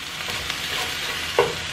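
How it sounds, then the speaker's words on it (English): Garlic frying in a pan gives off a steady, close sizzle, with a brief clink of a utensil near the end and no voices. "when garlic is frying in the house, I love the smell."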